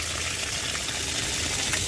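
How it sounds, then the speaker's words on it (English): Water runs steadily from a garden tap just repaired of its leak, a continuous close hiss holding even for the whole stretch without pause. "All right, water is turned on."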